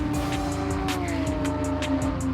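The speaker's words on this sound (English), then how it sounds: "That noise as they go by the straightaway at 150 mile an hour" Vintage race cars scream past one after another on a straightaway at about 150 mph, high-pitched engines whining loud and close in a rapid series of passes.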